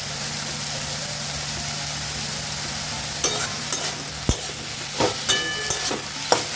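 Note shak leafy greens, with a pinch of sugar added, fry in a pan with a steady sizzle, and sharp scraping stir strokes come in repeatedly through the second half.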